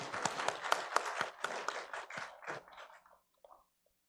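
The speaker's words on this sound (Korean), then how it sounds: "영광의 박수 올려드리겠습니다." A congregation claps together during a Korean Sunday worship service. Sharp, distinct claps build to a brisk patter, then thin out and fade to a few scattered final claps before silence.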